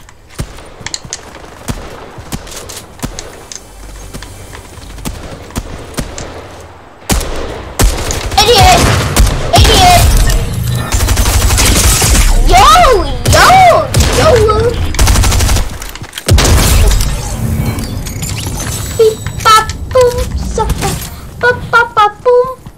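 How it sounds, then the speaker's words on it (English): Auto Strike shotgun fire in a video game, a dense run of loud, rapid blasts over roughly ten seconds, with gaps and quieter game sounds before and after. "I have a shotgun. Auto strike. This is my favorite gun."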